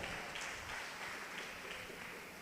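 A church congregation claps loudly during a sermon, a dense, steady wash of applause that stays even and somewhat distant for the whole stretch, with no voices standing out.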